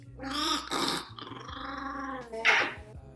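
A dog taken home from a pet store growls in low, throaty rumbling bursts over about three seconds, close and moderately loud, with a sharper snarl near the end.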